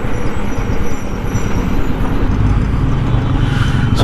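Heavy road traffic in Perungalathur heard from a motorcycle ride: a loud, dense rumble of car, bus and truck engines with wind roar, steady throughout and without a pause.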